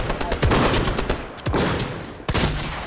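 Rapid bursts of gunfire in Fortnite crack out in clustered volleys, loud and close, with short gaps between them and no talking over the shots.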